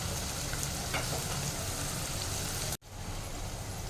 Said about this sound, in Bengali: আলু আর পেঁয়াজ মটরশুঁটি অল্প ভাজা ভাজা হয়ে গেছে।